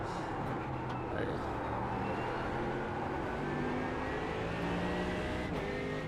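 Mercedes GT3 race car in the iRacing sim at Spa, a steady loud engine drone with shifting harmonic lines as it holds and builds speed, continuous throughout.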